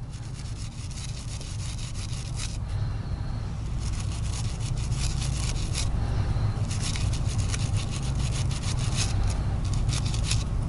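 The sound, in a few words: brass wire brush scrubbing fouling from rifle regulating puck grooves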